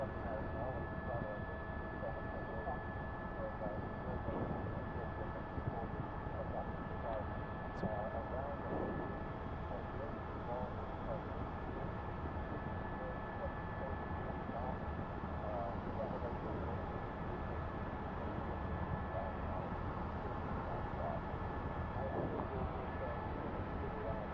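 A news helicopter flies over a police chase after a speeding Mercedes-Benz, its steady engine and rotor drone filling the cabin at constant loudness throughout, with no break.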